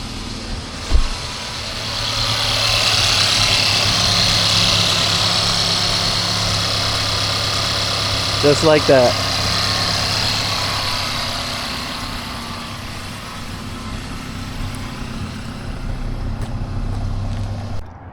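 A 2016 Mercedes GLC 300 engine idles with a steady, smooth drone that holds for the whole stretch, while a brief voice speaks over it partway through.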